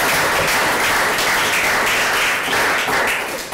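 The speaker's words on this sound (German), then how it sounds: "Dafür bitte meinen großen Applaus." A large crowd applauds loudly and steadily, a dense wash of clapping that holds throughout.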